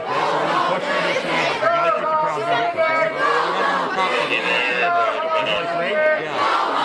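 Crowd of college protesters on a campus, a dense, steady wash of overlapping voices chattering and calling out, fairly loud and close, with occasional raised shouts rising above the din.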